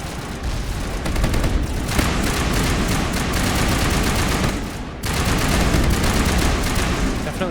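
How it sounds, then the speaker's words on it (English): Sustained turret gunfire in the video game Mass Effect, dense and loud rapid bursts with a brief break before the firing resumes. "Definitely sounds like those turrets are working"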